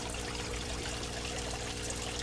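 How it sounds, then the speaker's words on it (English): Water runs freely through an aquaponics growing setup for lettuce, a continuous, dense pouring and trickling rush heard close and steady throughout. "I take that out and let the water run freely"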